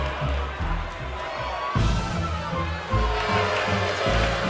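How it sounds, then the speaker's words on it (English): A wrestling crowd at Long Beach Arena gives a continuous, broad roar of jeers with swelling waves of noise, and a commentator talks over it throughout. "This crowd here at Long Beach Arena sound like they have nothing but disdain"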